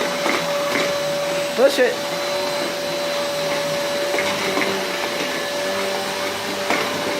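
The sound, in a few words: vacuum cleaner running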